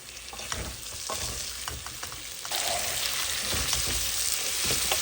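Eggplant and potatoes fry in a pan with a steady broadband sizzle and soft stirring scrapes; the sizzle grows noticeably louder halfway through, and no one speaks.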